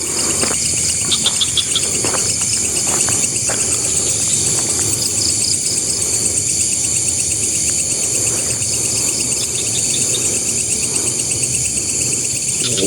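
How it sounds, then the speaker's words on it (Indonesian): Forest at night filled with a loud, continuous cricket chorus, high steady trilling layered with scattered chirps and faint rustles, with no one speaking. "kita dengarkan suara hutan sebentar ya"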